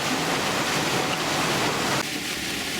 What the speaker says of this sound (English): Just a sort of quiet hum, but just the noise of water really.